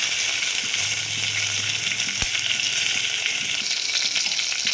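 Whole spices, cumin and green chillies sizzle steadily in hot oil for a chole curry, a dense continuous frying hiss with a brief sharp crackle midway.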